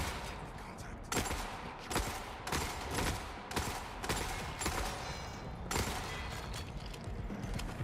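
Shotgun blasts in The Forever Winter ring out as repeated sharp reports at irregular intervals over a dense, noisy battle backdrop, fairly quiet overall, with a voice faintly present.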